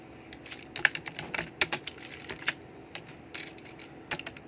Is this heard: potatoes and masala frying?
no